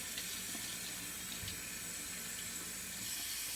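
Steady running tap water while a shaving brush is rinsed at a sink, a constant close splashing flow with faint clinks, no talk.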